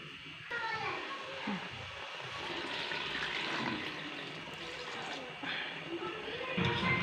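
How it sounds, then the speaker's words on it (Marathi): Hot water pours into a pan of wheat for kheer, a gushing, splashing stream close by under people talking, growing louder toward the end. "गरम पाणी घालून याला शिजवत ठेवायचं आहे"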